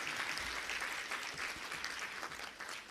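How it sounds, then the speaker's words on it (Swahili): An audience applauds the President at a Dodoma ceremony receiving EU budget-support funds, a dense, steady clapping from a crowd sustained throughout without speech. "Basi tena kwa niaba ya Watanzania wote tumpe makofi mengi Mheshimiwa Rais."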